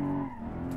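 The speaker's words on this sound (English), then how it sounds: "let's go for a nice big donut here on the parking lot" A car spinning a donut on a parking lot in the BeamNG driving game, with a sustained tire squeal over engine drone in a short, steady, close burst.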